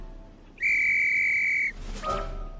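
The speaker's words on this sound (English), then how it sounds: "Kip blew his whistle." A whistle is blown once in a single steady, shrill blast lasting about a second, loud and close over a faint background hum, followed by some brief rustling.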